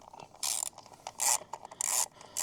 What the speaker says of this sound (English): So first I'm gonna remove this plastic here. You need 8mm socket.